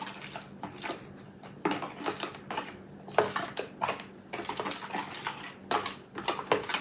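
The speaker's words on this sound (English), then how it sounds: "Give it a good mix." Chili casserole mixture with cinnamon stirred in a bowl, a close run of quiet, irregular scraping and clinking strokes of a utensil against the dish, with no talking.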